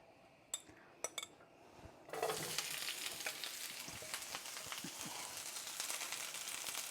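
Cabbage dropped into a hot pan for Korean bulgogi wilted slaw bursts into a loud, steady sizzle after a few light clinks of utensils, with occasional stirring scrapes and no voices.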